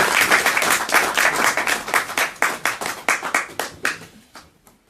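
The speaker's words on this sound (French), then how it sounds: "que je demande d'applaudir très fort" A crowd applauding at an installation ceremony for a party representative, brisk clapping that starts full and gradually thins and fades out toward the end.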